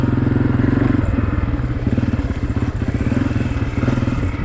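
A 2023 Honda CRF250F dirt bike engine runs loud and close with a steady, throbbing low rumble and slight rises and dips in revs, with clattery mechanical noise throughout.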